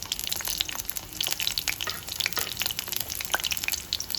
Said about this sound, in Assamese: এতিয়া লাহেকৈ অলপ সময় পিঁয়াজকেইটা অকণমান ৰঙচুৱা হোৱালৈকে অলপ তেনেকৈ ভাজিব লাগিব